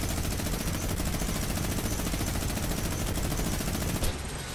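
Minigun fire in the Fortnite video game, a continuous roaring burst of rapid gunfire that runs loud and unbroken for several seconds before a brief cut-off near the end.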